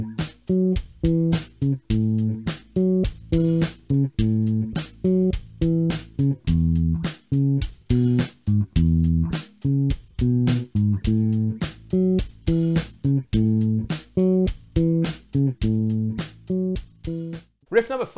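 Soul bass riff played with a drum track, a round, punchy repeating bass line over steady crisp drum hits, close and loud throughout.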